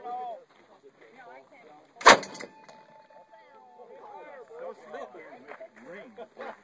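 An acetylene cannon fires a single loud, sharp blast followed by a brief ringing tail, with people talking before and after it.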